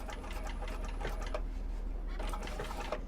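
A sewing machine runs continuously as it backstitches back and forth across a leather wristlet, its steady rapid mechanical clatter loud and close, with no talking over it.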